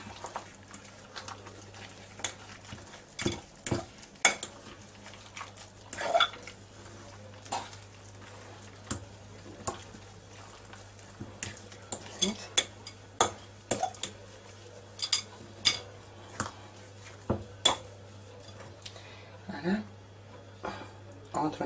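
Spoon stirring mashed potato mixed with cheese and cream in a bowl, giving soft, irregular clicks and taps against the bowl over a faint steady hum, with a person talking in between.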